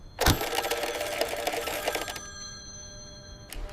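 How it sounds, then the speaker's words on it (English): Telephone ringing in a bank office in 1995, a loud close jangling bell ring that lasts about two seconds and then fades into a quieter tail before a brief sharp click. "The phone rings."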